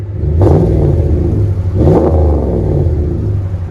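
A deep RAM 1500 5.7-litre V8 pickup cat-back exhaust burbles close by at idle, with two short throttle blips rising out of the low rumble.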